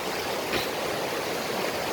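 Water rushes steadily at a waterfall known as a little beach spot, a continuous broadband roar of flowing stream close by with no pauses.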